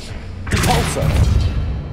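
A Depulso repelling spell fires in Hogwarts Legacy during Percival Rackham's Trial, a sudden whooshing burst with a heavy thud and crashing impact that rings out for over a second against low game ambience.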